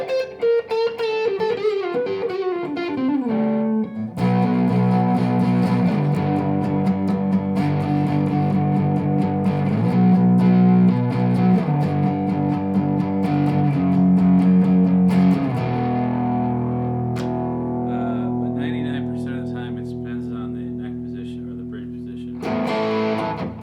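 Electric guitar with a humbucker in the neck position, played through a distorted, effected amp: sustained chords and single notes ringing out in phrases, with a brief pause near the start and a final strum at the end.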